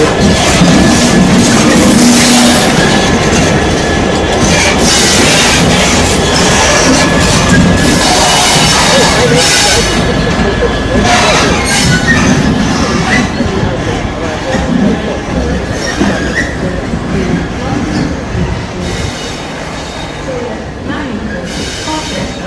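Trains pulling into a siding at Ipswich on the Great Eastern Main Line, a loud, close, continuous rumble of wagons with wheel clatter and squeal, running steadily and easing slightly toward the end.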